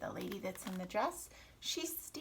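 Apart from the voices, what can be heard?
No distinct noise like a dog, phone or traffic.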